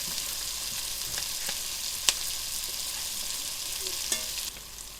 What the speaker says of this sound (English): Okay, bacon out, onion in. I'm going to put a dollop more butter in that.